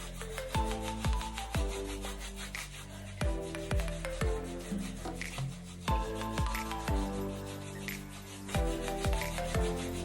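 Sugar body scrub rubbed over skin, repeated rough rasping strokes in a steady back-and-forth rhythm, close and fairly loud with no talk.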